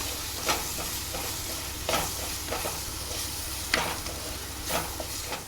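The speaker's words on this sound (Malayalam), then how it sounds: "ഇതെല്ലാം കൂടി നന്നായിട്ട് ഇളക്കിയെടുക്കാം" Shrimp roast with meat masala stirred in a sizzling pan, a spoon scraping in periodic strokes roughly every second over steady frying hiss, close and without speech.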